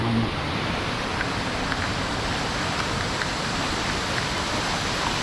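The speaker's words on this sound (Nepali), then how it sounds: "झर्ना नजिक नजिक आइसक्यो ओ झर्ना त खोला खोला हिँड्दैछौँ" Flowing water from a hidden waterfall near Pokhara rushes in a steady, broad wash, close and constant, with no voices over it.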